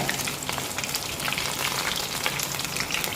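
Batter-coated enoki mushrooms deep frying in hot oil give a steady, dense sizzle and crackle that holds at an even loudness throughout, close by, with no talking.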